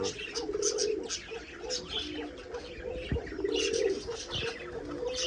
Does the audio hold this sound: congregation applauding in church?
no